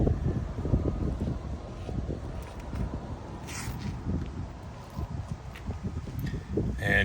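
A headwind gusts across an outdoor disc golf course, buffeting the microphone with a low, uneven rumble and rustle that rises and falls in short bursts.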